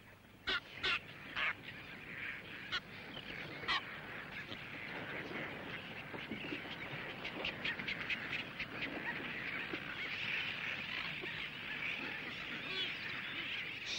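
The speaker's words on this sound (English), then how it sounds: "These are gannets." A gannet nesting colony calls in a continuous dense chorus, with harsh overlapping cries and a few louder, sharper calls standing out, heard outdoors at moderate distance.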